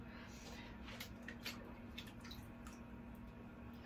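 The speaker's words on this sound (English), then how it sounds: "I'm gonna start adding some water to this" Water poured onto dry seed-starting material in a South Florida spring garden, the medium swelling and flaking apart as it soaks; faint, soft trickling and squishy drips over a steady low hum, with no talking.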